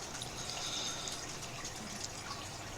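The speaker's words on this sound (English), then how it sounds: "Right now I'm just rinsing out my glass bottles using the salt water from the tank." Glass bottles being rinsed out with salt water taken from a home aquarium tank: a steady, close wash of running, splashing water with faint drips, continuous throughout and with no voices.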